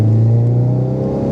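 Ford Focus RS pulling hard in third gear, with a steady loud engine drone and rising rumble close by, alone with no voices.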